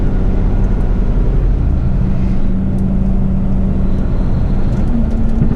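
Steady low engine and road rumble from a truck cruising on a quiet road at night, constant and close, with a faint tone shifting partway through and no voices.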